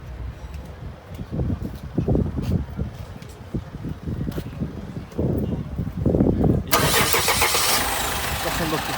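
A used Mercedes car at a Sumqayit car market: people talk for several seconds, then the engine cranks and catches with a loud roar and keeps running steadily to the end.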